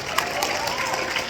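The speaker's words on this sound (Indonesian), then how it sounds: "Boleh tepuk tangan untuk Syahid." A crowd at an Islamic boarding school celebration applauds for Syahid, a dense, steady patter of clapping with faint cheering throughout.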